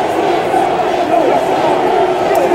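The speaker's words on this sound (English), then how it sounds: "This crowd very upset at what they're seeing here" A wrestling arena crowd voices loud disapproval during a Triple H and Batista feud match, a dense sustained roar of booing and jeering with a few shouts rising above it.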